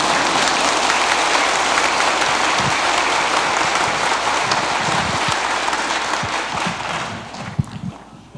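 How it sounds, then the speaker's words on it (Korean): Congregation clapping for the parish priest during an Easter Vigil Mass at a Korean Catholic church in Virginia: sustained, loud, dense applause with a few sharp close claps, tapering off toward the end. "본당 신부와 우리 모두를 위해서 박수쳐주기 바랍니다."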